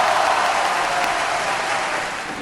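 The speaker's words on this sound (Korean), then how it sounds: "자, 우리 큰 박수 줄까요?" A group gives a short burst of steady applause for a celebratory announcement during an astronomy talk. The clapping is moderately loud and fades slightly at the end, with no speech over it.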